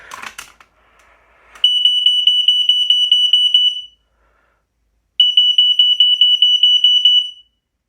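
A smoke alarm being tested gives two loud runs of rapid, piercing electronic beeps, each lasting about two seconds with a short silence between, after a brief rustle at the start.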